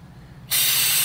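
A can of brake cleaner sprays onto Kawasaki Mule Pro FXT utility vehicle parts during a fluid change, a sudden loud close hiss starting halfway through and continuing steadily.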